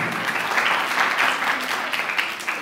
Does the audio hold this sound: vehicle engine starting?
no